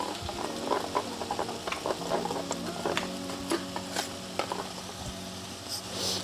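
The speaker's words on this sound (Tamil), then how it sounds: "ஸோ இந்த சலசலப்பு அடங்கட்டும்." Kara boondhi batter drops fry in plenty of oil in a wide kadai, a close, continuous bubbling sizzle dotted with irregular crackles and pops.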